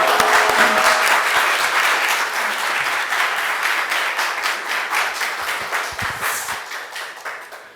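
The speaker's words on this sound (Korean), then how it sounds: "여러분 큰 박수로 할렐루야 환영해 주시겠습니다" A church congregation at a Sunday joint worship service applauds to welcome a guest pastor: dense, lively clapping from many hands, strong at first and gradually thinning and softening toward the end.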